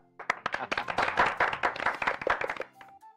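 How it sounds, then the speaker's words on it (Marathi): A crowd claps in applause to congratulate a prize winner in a waste-to-reuse craft contest on a Marathi TV serial, a dense burst of many hands lasting about two and a half seconds before fading out. "टाळ्या"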